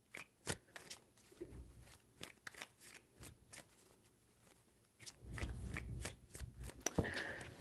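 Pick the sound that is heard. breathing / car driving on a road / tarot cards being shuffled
tarot cards being shuffled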